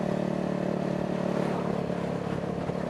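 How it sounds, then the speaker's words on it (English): A Honda CBR250R fitted with a loud M4 Street Slayer exhaust runs with a steady, buzzing engine drone, close and moderately loud throughout, with no voices over it. "Will admit the bike is a little bit loud, but that's just because I have a M4 Street Slayer on it"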